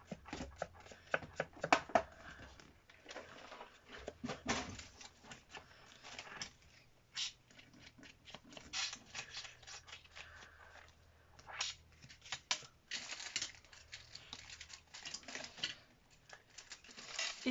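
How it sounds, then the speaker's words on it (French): An ink pad is dabbed repeatedly along the edges of a handmade autumn paper card, producing quick soft papery taps and brushing scuffs in irregular bursts, close and fairly quiet. "Je vais ancrer aussi les bords de ma carte."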